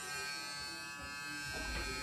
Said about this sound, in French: Rends-moi cette brosse à dents électrique Chucky de 18 mois.